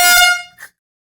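A Seachoice manually powered signal horn gives a short, loud, blaring blast up close, followed by a brief fainter honk as the air runs out, with nothing else heard.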